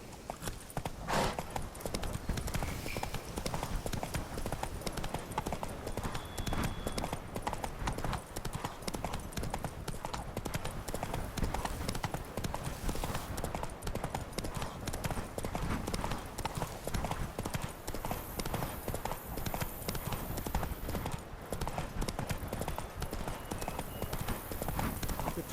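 Roach the horse trotting in The Witcher 3, hooves clip-clopping in a steady, continuous rhythm close by, with voices talking over the hoofbeats.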